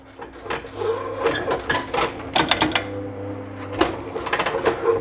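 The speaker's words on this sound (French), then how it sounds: "pour moi le plus bruyant c'est ce mouvement de haut en bas là" An Oplite GTR S3 racing wheel moving up and down under strong force gives off a busy run of close mechanical clicks, rattles and knocks, loud and irregular, with no voices.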